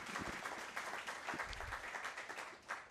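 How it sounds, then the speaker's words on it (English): Audience applause following a book talk, a steady wash of clapping at moderate distance that holds evenly for about three seconds. "Round of applause for her"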